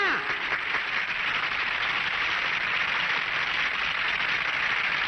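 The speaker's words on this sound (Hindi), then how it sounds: "तालियां" An audience in a Hindi-dubbed 1993 Marathi comedy film applauds in a steady, dense wash of clapping, even and continuous throughout.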